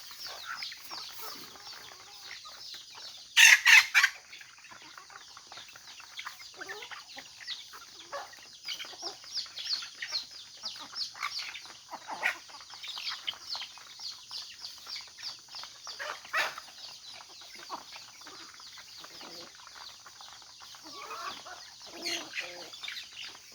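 Week-old labuyo and bantam chicks at feeding time in the morning, chirping and peeping continuously at moderate volume, with a brief louder burst early on and occasional flutters, no talk.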